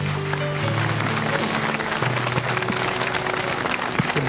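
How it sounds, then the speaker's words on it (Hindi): An audience claps loudly for all mothers during a song performance, with sustained sustained tones from music running under the dense, steady applause throughout. "बहुत सारी तालियां"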